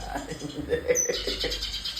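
Small birds, a cucak kinoy songbird, chirp in short high tweets while people talk loudly nearby, the calls partly buried under the voices.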